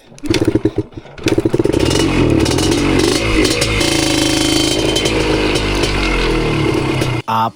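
A motorcycle engine sputters with several failed start attempts, then catches and revs loudly and continuously, the throttle rising and falling before a brief drop near the end.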